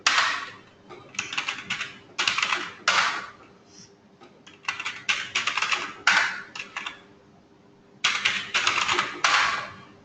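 Computer keyboard typing in bursts of rapid, close key clicks, pausing between groups, as a password is entered into a Linux terminal; no voice heard.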